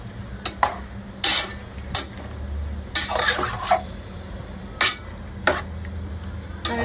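Clattering scrapes of a spoon stirring reshmi chicken in a pan over a raised gas flame, several short irregular knocks and scrapes, close and moderately loud over a low steady hiss.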